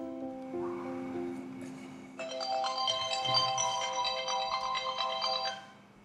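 A telephone ringtone plays a melodic electronic tune, starting with a simple tone and then swelling into a fuller, brighter chiming melody before fading, heard alone at moderate volume.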